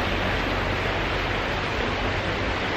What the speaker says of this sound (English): Now listen to the soothing sounds of that water.